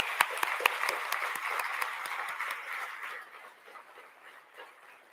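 An audience at a 2022 employment champions breakfast in Chicagoland applauds the skills team, with sharp individual claps standing out at first before the clapping thins and fades over five seconds.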